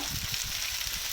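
Sliced big onions sizzling with beef in a pan for Kerala-style beef kondattam, a steady close crackling fry, faint and continuous with no talking.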